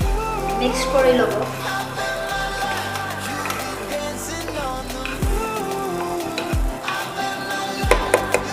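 Mixed vegetables for a vegetable pulao stir-fried in a pan, a steady sizzle with scraping stirs running under background music and a talking voice throughout.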